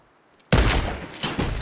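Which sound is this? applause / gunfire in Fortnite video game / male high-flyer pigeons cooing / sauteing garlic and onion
gunfire in Fortnite video game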